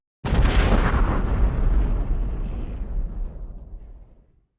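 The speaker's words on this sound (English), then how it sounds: "There's gonna be explosion." One loud explosion sound effect bursts in suddenly and rumbles on, then fades slowly over several seconds, standing alone without talk.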